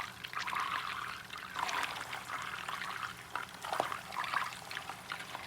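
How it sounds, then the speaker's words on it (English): Lobster pieces drop into a pot of congee on the stove, giving wet, sloshing plops and bubbling splashes in uneven bursts, close by, with no talking. "So I'm gonna drop all of the lobster in."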